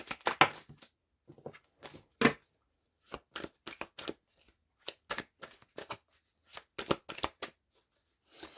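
Tarot cards are shuffled and handled in a string of sharp, close papery snaps and flicks, irregularly spaced with short silent gaps between them.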